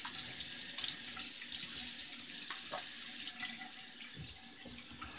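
Tap water runs steadily into a bathroom sink while a face is wetted before a wet shave with a vintage single-edge razor, a continuous close hiss with small splashes from hands in the stream.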